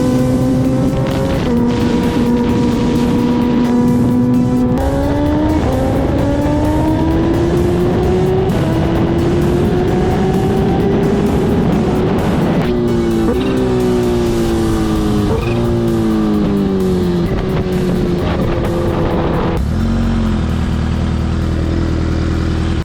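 A 2023 Kawasaki Ninja H2 screams at high speed, loud and close, its engine note climbing through repeated upshifts with brief dips between gears and a steady roar underneath.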